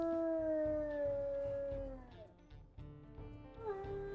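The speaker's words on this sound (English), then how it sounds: "Yeah, I think those are identical howls." A WolfQuest video game wolf howls in a long, clear, slowly falling tone that fades out and then rises again with a second howl, over a soft pulsing game music bed.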